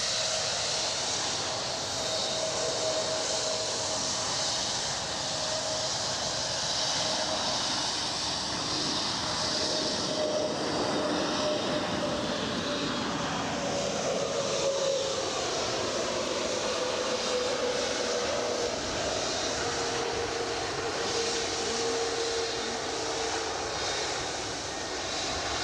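An Air France jet departs Edinburgh, its engine roar loud and sustained with a whining tone that slowly falls in pitch as it passes, heard alone without talk.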